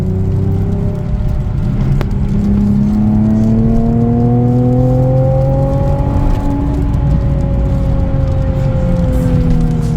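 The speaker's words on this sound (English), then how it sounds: "I took this opportunity to jump in with Phil in his Nismo 370Z as we headed to the Llanberis Pass via the A498" A Nissan Nismo 370Z sports car driving along a wet mountain pass road on the A498 toward Llanberis Pass in Wales, its engine droning loudly from inside the cabin and rising and falling in pitch through the gears.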